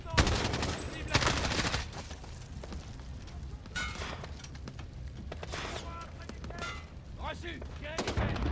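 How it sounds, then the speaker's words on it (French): Machine-gun fire and other gunfire ring out in the Modern Warfare 2019 video game, with repeated bursts and shots at varying distances throughout, mixed with game noise and occasional shouted voices. "On tue cette mitrailleuse et neutralise-la!"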